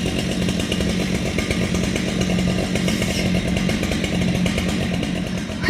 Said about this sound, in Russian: Сегодня будут спиливать наше огромное дерево.